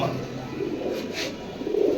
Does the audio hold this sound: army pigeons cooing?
yes